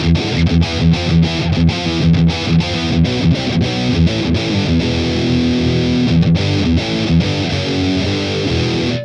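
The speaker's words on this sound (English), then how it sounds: "So here's the sound of a vintage rectifier." A Boss Katana MK2 amplifier set to a Mesa Dual Rectifier-style high-gain tone through a vintage cabinet plays a heavily distorted, chugging electric guitar riff, loud and continuous with rhythmic palm-muted stops, no talking.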